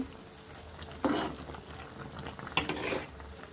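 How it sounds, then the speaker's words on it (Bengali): Kochur loti cooking with coconut and shrimp is stirred in a pot, a soft low bubbling simmer with two clear scrapes of a utensil against the pot. "বেশি করে আমি নাড়াচাড়া দিয়ে নিচ্ছি"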